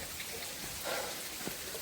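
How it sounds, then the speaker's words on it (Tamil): Water dripping and leaking into a tribal mud house, heard as a soft, steady patter like rain on a surface, with a couple of faint individual drops standing out. "இதில் தண்ணி இப்போவே ஒழுகிட்டு இருக்கு."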